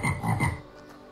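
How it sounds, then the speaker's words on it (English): A single short burst of frog croaking from a kids' animal sounds game: a few quick, throaty pulses close up that fade quickly into near silence. "Frog."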